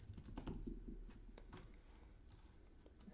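Typing on a computer keyboard while editing a readme file, a steady run of light clicks and taps close by, with no talking.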